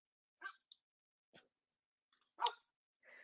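A pet dog indoors gives a few faint, short barks and yips, spaced apart with silence between them.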